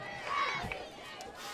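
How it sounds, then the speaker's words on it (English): Capacity crowd of about 1,500 at a high school football game between Mahwah and Westwood, a steady roar of many voices with a brief louder swell of cheering partway through. "This is the capacity crowd here at"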